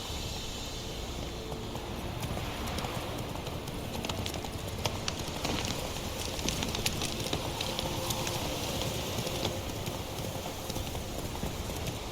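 In The Witcher 3 video game, the horse Roach gallops in a steady, rapid clip-clop of hooves that runs without a break, with ambient game sound beneath.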